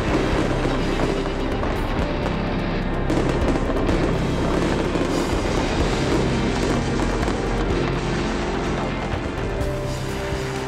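Fireworks at a large display burst continuously in a dense, loud barrage of booms and crackles overlapping with no pauses, and no voices.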